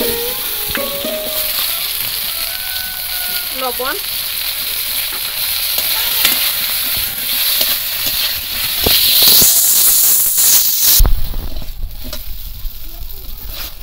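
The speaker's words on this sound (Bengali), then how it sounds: "এই কড়াইতে এই তেলে মাছ ভাজা তেলের মধ্যে বেগুন গুলো ভেজে নেবো হালকা করে" Eggplant slices frying lightly in a wok of oil already used for frying hilsa fish, a loud continuous sizzle and hiss with stirring clatter and a brief voice over it.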